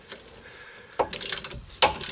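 A wrench ratchets while loosening a rear brake caliper nut on a 2006 Suzuki Forenza, giving a couple of short bursts of close metallic clicking and clanking.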